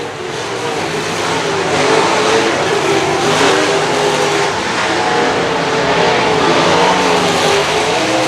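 Sprint car racing engines roar loudly and continuously at a 2017 race, a dense, steady high-revving drone with slight rises and falls and no talk over it.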